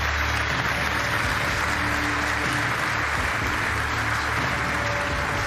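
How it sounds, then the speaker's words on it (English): A large crowd applauds Miroslav Klose, winner of the 2023 UEFA President's Award, as he comes on stage at the Champions League group-stage draw. The clapping is steady and dense, filling the whole stretch evenly with no voices over it. "You can give him another round of applause."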